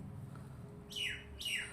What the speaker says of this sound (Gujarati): મસ્ત પક્ષીનો અવાજ છે.